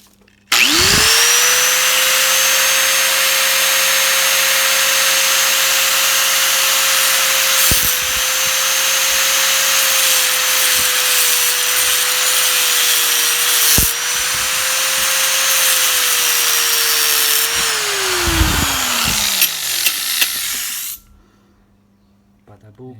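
A power tool cuts off a section of a Lexus IS250 intake manifold area part, a loud high whine running steadily for about eighteen seconds with brief dips, then spinning down to quiet.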